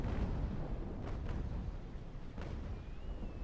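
Deep rolling booms of cannon fire in the Naval Action sailing-warship game, a continuous low rumble of broadside shots with a few sharper blasts standing out, heavy and close, no speech.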